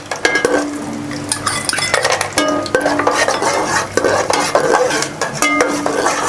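Cashews fry in hot oil with curry leaves in a pan, sizzling under repeated close metallic clinks and scrapes of a spoon stirring against the pan.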